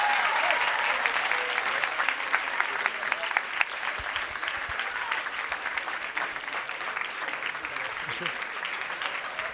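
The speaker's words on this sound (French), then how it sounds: "Veuillez accueillir avec un tonnerre d'applaudissements Monsieur Jean Lassalle" Sustained audience applause in a Sciences Po Saint-Germain-en-Laye conference hall welcoming politician Jean Lassalle: a steady, dense wash of many hands clapping evenly throughout, fairly distant and moderately loud.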